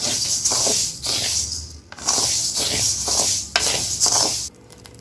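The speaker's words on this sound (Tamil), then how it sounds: "பாருங்கள் எப்படி பொரியுதுன்னு ராகியெல்லாம் கருக விடாதீங்க" Ragi (finger millet) grains roasting in a pan, a steady dense sizzle and scraping rattle stirred in repeated sweeps, loud and close with brief pauses between strokes.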